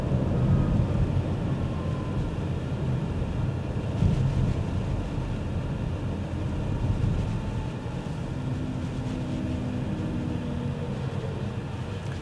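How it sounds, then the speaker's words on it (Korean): Engine-bay noise from a 2024 Renault Arkana E-Tech hybrid reaches the cabin during city driving, a steady low hum and whirring mixed with road and wind noise, continuous and moderate, with no talking. "이런 소리가 이 엔진룸 쪽에서 전달이 좀 되는 편입니다."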